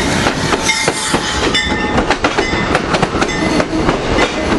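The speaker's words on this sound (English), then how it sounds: "We got Keystone train 654 coming in." An Amtrak Keystone passenger train 654, led by a cab car, rolls past close by with loud, steady rumble and rhythmic clickety-clack of wheels over rail joints.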